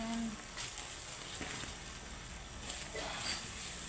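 Tuna sisig frying and being stirred in a pan, a steady close sizzle with faint scraping throughout, soft background talk underneath.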